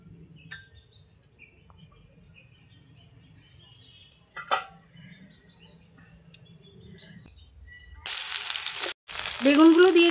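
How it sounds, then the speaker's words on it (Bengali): Eggplant pieces go into hot oil in a wok and burst into a loud, dense sizzle in the last two seconds, after a quiet stretch of faint kitchen clatter and distant bird calls. "প্রথমে আমি বেগুনটা ভেজে নেব।"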